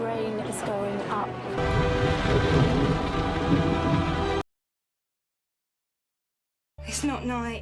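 Rain pours steadily alongside rumbling thunder in a Doctor Who episode, mixed with dramatic music and speech, then cuts abruptly to silence before voices return briefly.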